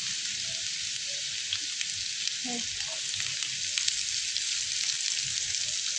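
Crushed ginger and garlic fry in a pan over lowered heat, a steady close sizzle with occasional stirring scrapes.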